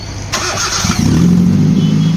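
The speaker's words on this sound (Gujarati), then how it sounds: "વાયરિંગ બિછાઈ સ્ટાર્ટ કરીને જોઈએ છે શું કન્ડિશન છે" A Hyundai i10 with an overhauled 1.2-litre engine cranks briefly and then catches, settling into a loud, steady running drone recorded up close, with no voices.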